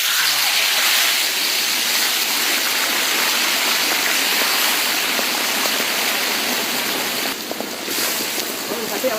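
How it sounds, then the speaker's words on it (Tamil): Running water pours steadily and loudly while cooking vessels are scrubbed and washed in a Tamil Nadu village setting, a dense continuous rush throughout. "தேய்ச்சி விடுங்க, பாத்திரத்தை கழுவுங்க."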